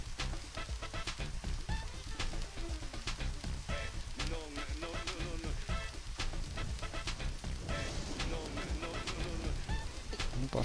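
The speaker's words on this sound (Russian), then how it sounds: "Ну, пошел дождик." Rain in the video game Deadly Premonition: steady patter and hiss of falling rain with scattered sharper drops, mixed with game sounds and a voice speaking partway through.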